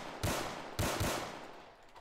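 Two loud, sharp gunshot bursts from an enemy gunner in a shooting video game, the first at about a quarter second and the second near three quarters, each ringing out and decaying with no talking.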